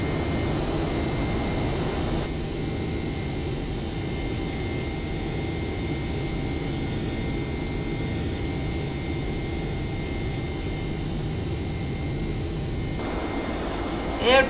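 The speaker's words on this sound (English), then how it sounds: "You can hear some voice of the engine at this point." A steady, loud Boeing 767 jet engine roar in the X-Plane 11 flight simulator drones throughout with little change, a broad continuous rumble and hiss, with no speech.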